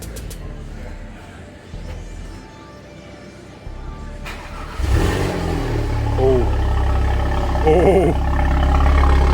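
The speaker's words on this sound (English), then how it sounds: "yeah, that does sound like a good cold start" An Audi TT fitted with Stage 2 hardware cold-starts in a garage: the starter whirs, then the engine catches and revs up to a loud, rising idle, with people talking over it.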